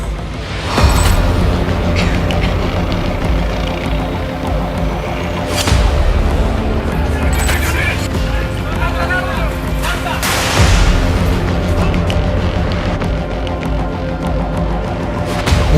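Gunfire in news footage of unrest in Ashulia, Bangladesh, July 2024: repeated heavy booms and cracks over a dense, continuous rumble, with sharp louder bursts recurring every few seconds.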